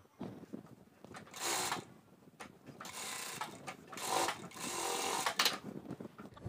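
A sewing machine stitches a shorts pocket corner in short, stop-start runs of whirring, with quiet handling noises between the bursts.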